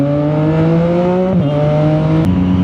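Close motorcycle exhaust humming at a steady rev, with a brief dip in pitch midway and a small click near the end.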